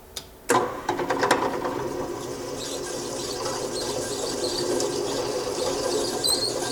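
A drill with a large-diameter bit, up to 3/4 inch, bites into metal at moderate speed: a sudden onset followed by a continuous, loud, squealing grind with rattling at first.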